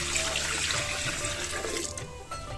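Rice-washing water pours steadily into a clay pot for sweet pongal, a continuous close splashing and gurgling stream that runs the whole time with no speech.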